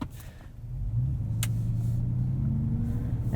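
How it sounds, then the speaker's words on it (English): A 2018 Chevrolet Tahoe RST Performance Edition pulls away, heard from inside the cabin as a deep engine rumble that rises steadily and then holds. "Let's take this thing for a drive."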